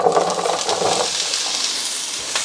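Peppers and onions hit an oiled pan at a campsite cookout, giving off a steady, close, hissing sizzle that stays loud and even throughout, with a few faint stirring scrapes.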